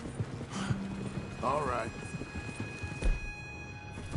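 Horse hooves clip-clop in a video game, a short run of steps heard close along with a horse's snort or whinny, while someone speaks briefly.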